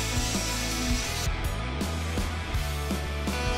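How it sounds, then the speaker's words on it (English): A Festool OSC 18 cordless oscillating multi-tool cuts with a steady, loud buzzing drone that carries a rapid vibrating texture and stays continuous from start to finish, with no voices. "When cutting with oscillating tools"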